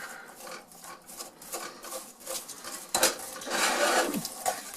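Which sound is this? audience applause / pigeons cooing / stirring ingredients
stirring ingredients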